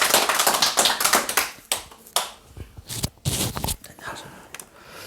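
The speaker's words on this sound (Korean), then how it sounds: "박수로 맞이해 주시기 바랍니다." An audience at a calligraphy talk claps to welcome a brush museum director, with bursts of close clapping that start dense, then break into uneven, stuttering claps that trail off.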